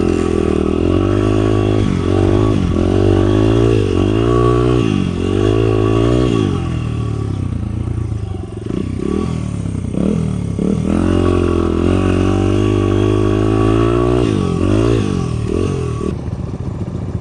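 A dirt bike engine running loud and close throughout, with repeated revs rising and falling over a constant droning idle.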